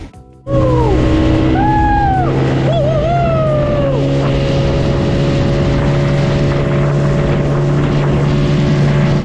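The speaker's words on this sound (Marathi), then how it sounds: "चला first time ever going to do jet ski ride." A jet ski engine roars steadily at close range on the sea in the Andaman Islands, a loud droning hum with a few rising whines as it revs.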